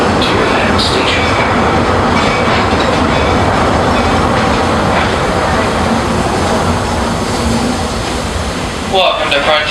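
Walt Disney World Railroad steam train rolling into Frontierland Station, a loud continuous rumble and clatter of wheels on track filling the whole stretch, with a brief hiss and squeal near the end as it slows.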